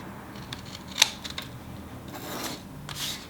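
Scissors cut along one side of a paper pop-up heart card, a few close snipping and rasping strokes with one sharper snip near the start, with no talk.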